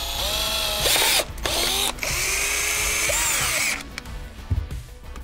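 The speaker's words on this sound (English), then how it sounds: "we're ready to drill, screw them in to fix your switch panel" A power drill drives screws to fix a switch panel to a box on a boat build, with loud whirring bursts that start and stop and change pitch as each screw seats, followed by quieter handling clatter.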